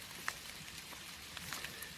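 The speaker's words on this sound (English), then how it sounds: "here I am in the rain" Steady rain falls outdoors near a wood yard with a carving station, a soft continuous patter with a few brief, sharper drop hits scattered through the two seconds and no voices.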